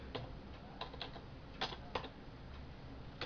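Quiet, irregular clicking of keys on a computer keyboard, scattered taps with short pauses, close and soft, with no talking.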